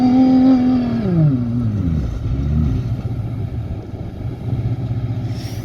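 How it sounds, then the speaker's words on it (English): A car approaches and passes close by at a race, its engine note falling as it goes past, then rumbling on as it accelerates away into the distance. "And then here comes another car."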